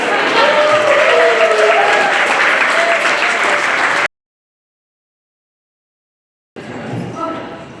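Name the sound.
audience applause at a comedy show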